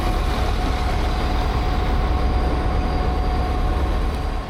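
An Irish Rail class 22000 diesel train pulls into a station, a steady, loud rumble of engine and wheels running throughout with a faint high tonal whine above it, and no voices.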